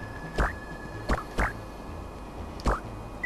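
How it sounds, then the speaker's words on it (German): Mario swimming in the Super Mario RPG video game: four short, watery, frog-like blips with rising chirps, spaced roughly evenly over a faint steady background. "Ich höre mich auch ein bisschen an wie ein Frosch, wenn ich so schwimme."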